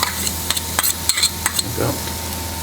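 Garlic frying in hot oil in a pan after a New York strip steak, a loud dense sizzle with several quick utensil taps and stirring clicks throughout a short burst.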